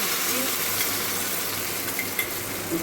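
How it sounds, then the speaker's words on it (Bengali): Mustard and poppy seed paste going into a frying pan for a Bengali bele fish posto dish, giving a steady close sizzle with soft stirring scrapes and a small clatter at the end. "এবার আমি সর্ষে পোস্ত এই যে বাটা পেস্টটা আছে এটা আমি দিয়ে দিচ্ছি"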